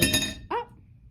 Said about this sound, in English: He just knocked over a glass, but it didn't break